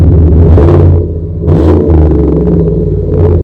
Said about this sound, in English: You can't have a lifted truck without high quality, blisteringly loud, dual performance exhaust.